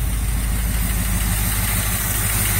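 A 1978 K5 Blazer engine idles on the fast idle cam during a cold start at about -25C, a loud, steady low rumble with even pulsing and no talk.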